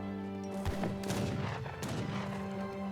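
Heavy cannons and massed soldiers' musket volleys in an Age of Empires 3 battle fire as a quick series of loud booms and crackling gunshot bursts, closely spaced, with no speech over them.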